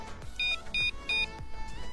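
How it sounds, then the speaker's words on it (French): A motorcycle alarm locks with three short, bright electronic beeps at an even pace, set over faint low thumps and background clatter. "le dernier bip veut dire qu'elle est enclenchée"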